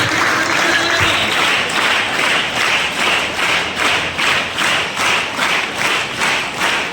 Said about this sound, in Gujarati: એ બધા માટે આપણે જોરદાર તાળીઓ પાડીશું.